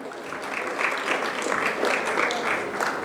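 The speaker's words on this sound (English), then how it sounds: "Can we have a big round of applause for Mr. Sudhir?" Audience applause at a corporate keynote event welcoming a keynote speaker, a steady, dense patter of many hands clapping throughout, fairly even in loudness with no voices over it.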